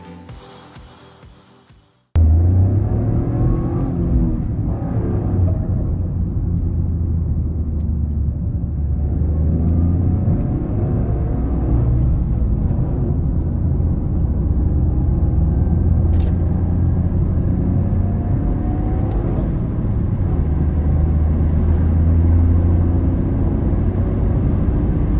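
A Toyota GR Corolla's exhaust drones low and steady from inside the cabin while driving, with an engine rumble that rises and falls with throttle, heard alone and loud after a brief quiet start.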